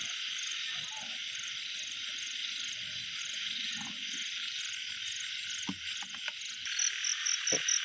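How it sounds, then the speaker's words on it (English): Baby frog croaking at night outdoors, a steady chorus of croaks mixed with buzzing insects and crickets, fairly quiet and continuous with a few louder nearer calls near the end. "this one is frog, baby frog"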